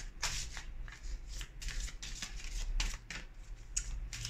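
Tarot cards are shuffled close up in a quick series of crisp riffling bursts, faint and steady over about four seconds, with no talking.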